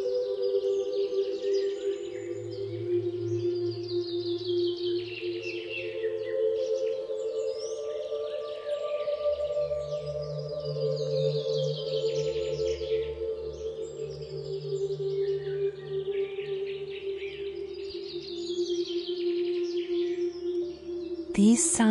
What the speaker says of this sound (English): you hear the birds singing and the trees rustling